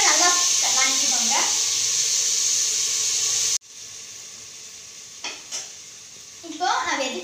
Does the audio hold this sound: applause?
no